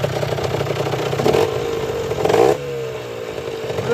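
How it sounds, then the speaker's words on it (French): An Aprilia RS50 motorcycle engine revs near and loud, rising in pitch twice with brief surges before dropping back to a steadier idle-like drone, no talking. "Est-ce qu'on peut entendre le son de la moto?"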